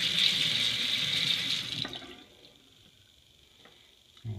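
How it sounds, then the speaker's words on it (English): Hot water runs from a faucet into a sink with an open drain, a steady close hiss for under two seconds before being shut off, followed by quiet with a few faint knocks. "we'll open the drain and we will turn the water on"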